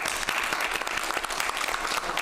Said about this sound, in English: So I'd like to give them a round of applause and say thank you.